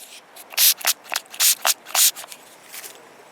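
Several quick rubbing swipes of a cloth across a surface, close and fairly loud, in uneven bursts with brief pauses between.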